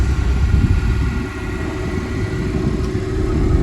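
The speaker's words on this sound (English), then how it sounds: "Go ahead and remote start it." A 2025 Ford Mustang EcoBoost, remote started, idles with a steady low rumble and constant broadband engine noise, heard alone with no talk.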